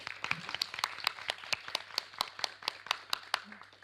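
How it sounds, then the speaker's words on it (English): Scattered applause from a small audience at a school debate competition, a few distinct hand claps in a loose rhythm, fairly quiet and close, with a low steady hum in the room. "Let's have another round of applause."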